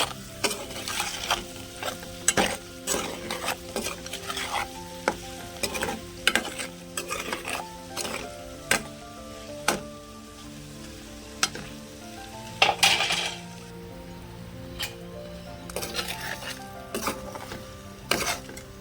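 Eggs cook in chili masala for egg pickle, the pan crackling and sizzling continuously while a spoon stirs and knocks against the pot in irregular clatters, fairly loud and close.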